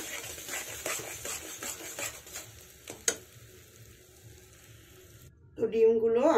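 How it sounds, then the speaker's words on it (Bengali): Beaten eggs poured into a hot wok and stirred into scrambled bhurji, a soft sizzle with scraping and stirring clatter, ending in a louder burst of noise. "সমস্ত গোলানো দুই ডিম আমি কড়াইয়ের মধ্যে ঢেলে দিলাম"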